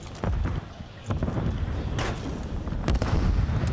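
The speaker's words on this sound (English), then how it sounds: "that's a lot of explosions in the distance. That's going to be the frag grenades" Frag grenade explosions boom in the distance during a competitive shooter esports grand final match, several dull muffled blasts rolling one after another under continuous gunfire and battle noise.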